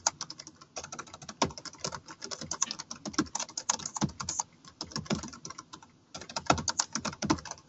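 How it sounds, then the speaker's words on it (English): Fast, irregular typing on a computer keyboard, close and crisp keystrokes in bursts with short pauses, no voices. "I'm just typing in some verbiage here."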